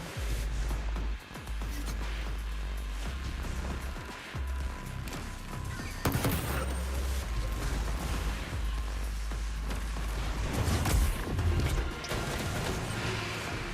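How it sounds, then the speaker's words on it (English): Repeated heavy thunking blasts of a grenade launcher in a video game, loud bursts spread across the stretch with a dense, noisy game soundscape between them and no talk. "I love the thunk thunk grenade launcher gameplay."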